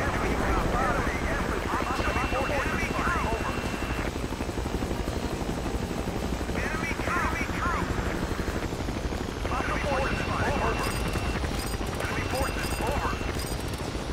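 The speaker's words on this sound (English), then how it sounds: "Chopper." A helicopter drones with a steady rotor hum the whole time, with bursts of gunfire and other game effects layered over it, in a chemical plant setting in a game.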